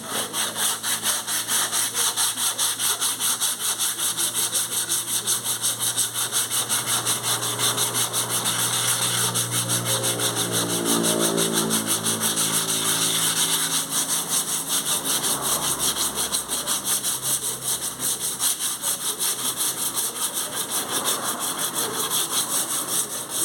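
Sanding on a Peugeot car body in a workshop makes a continuous, close abrasive rubbing with a fast even back-and-forth texture that carries on steadily for over twenty seconds without talk.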